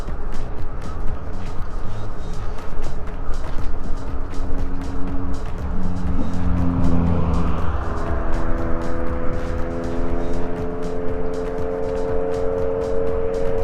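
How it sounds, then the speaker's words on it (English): Cars driving past on a scenic, hilly road in the afternoon, heard from a moving electric bike: a steady engine and tire roar that swells as a vehicle approaches and goes by, with wind noise throughout. "That's why there's a bit of traffic even at 2 o'clock or 2:30 in the afternoon."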